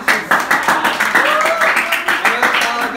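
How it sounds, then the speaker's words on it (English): A small group claps in a quick, uneven rhythm of separate hand strikes at an art gathering, with voices talking and calling out over the clapping. "give them a round of applause"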